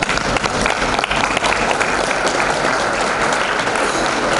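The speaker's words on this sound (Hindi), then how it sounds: "उन तिलका मांझी के लिए एक बार मैं चाहता हूं कि आप सभी ताली बजाएं" A seminar audience at Adikavi Nannaya University bursts into loud, dense applause honouring the tribal hero Tilka Manjhi. The clapping stays thick and continuous from start to finish.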